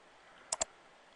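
Two quick, crisp computer mouse clicks close together, close-up and fairly loud against a quiet background.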